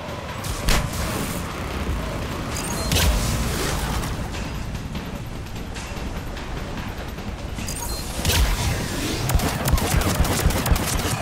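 Combat in Mass Effect 3 on Insanity difficulty during the Leviathan DLC, with dense gunfire and blasts over a constant roaring engine-like rumble, loud and continuous with a few sharper bangs.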